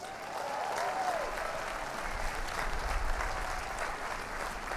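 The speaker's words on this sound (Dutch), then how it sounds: "Ik doe een stap opzij en geef hem applaus." Steady applause from a studio audience greets a top rower of the Holland 8 crew, a dense wash of clapping lasting the whole stretch with a faint voice near the start.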